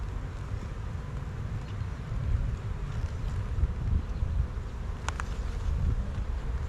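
Honey bees buzz thickly around an open hive frame holding honey and pollen, forming a close, steady drone with light wind rustle and no voices.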